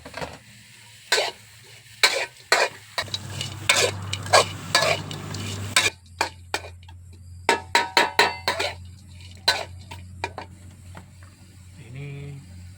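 Bird meat is stir-fried in a pan for a spicy stir-fry, with sharp, intermittent scraping and clanking of the spatula against the pan over a low sizzle, plus a brief burst of muffled talk early on.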